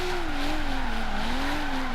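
A car drifts in Forza Horizon 3, its engine holding a steady drone with a wavering pitch as the tires squeal continuously through the slide, close and loud with no voices.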